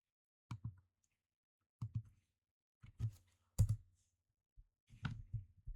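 Short bursts of keystrokes on a computer keyboard, a Ctrl+C copy shortcut among them, come in small clusters roughly once a second. The clicks are crisp and close against a silent background.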